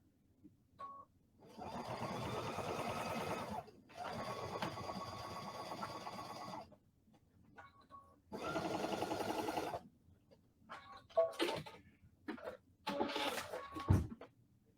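A sewing machine stitches French seams on a fabric pouch in four sustained whirring runs of several seconds each, separated by pauses and small clicks, fairly quiet.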